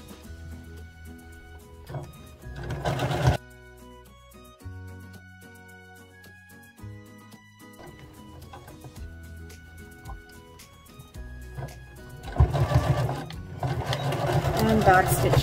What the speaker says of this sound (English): I just use my fingers to help hold the gathers in place while I'm stitching